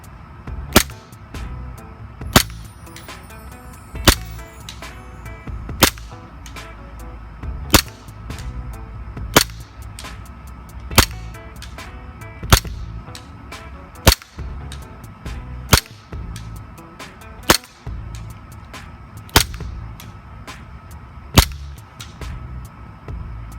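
A WE Glock airsoft pistol fires BBs at a fence outdoors, about fifteen sharp cracks at a steady pace of roughly one every one and a half seconds, loud and close, with a low background rumble between shots.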